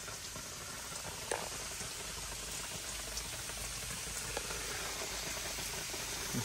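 A constant hiss of water spraying from drip irrigation misters, with a few faint ticks and knocks breaking through the steady rush.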